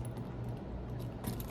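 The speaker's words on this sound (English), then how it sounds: "And then I have my keys as well." Keys jangle faintly as they are handled out of a purse, a light, close metallic rattle with a brighter shake near the end, over a low background hum.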